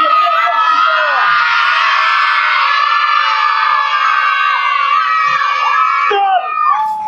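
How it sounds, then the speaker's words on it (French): A large audience of children at a show at a farm park shout one word together as loudly as they can, a sustained high-pitched roar of many young voices lasting several seconds before breaking off into scattered cries. "Si vous m'entendez bien, il faudrait dire oui encore plus fort."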